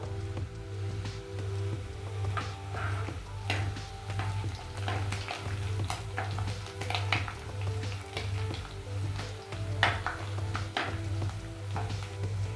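Green chilies frying in oil, a soft continuous sizzle with intermittent stirring clicks and scrapes of a spoon against the pan, fairly quiet and steady throughout.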